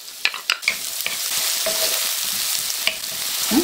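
Red onion sizzles steadily in hot cooking oil in a pan, with sharp clicks of a spatula stirring and scraping at intervals over the continuous frying hiss.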